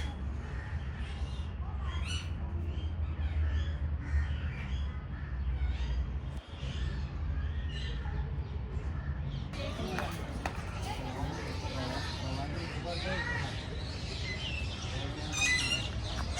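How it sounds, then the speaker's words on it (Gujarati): Birds call and chirp faintly at the aviary of Kankaria Zoo in Ahmedabad over a low background hum, with scattered short calls throughout and a person speaking at times. "શાંત વાતાવરણ અને એ પક્ષીઓનો અવાજ અહીંયા સંભળાય છે."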